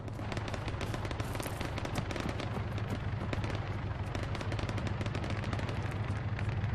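Dense, continuous gunfire in the military shooter Arma 3 during a King of the Hill match, rapid overlapping shots and bursts crackling steadily throughout, some close and some distant, with no talking.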